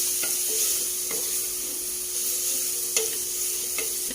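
Sliced onions frying in a pot for biryani, a steady broad sizzle with occasional scraping clicks from a spoon stirring them, close and constant, no voices.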